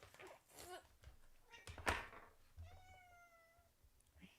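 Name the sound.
cat meowing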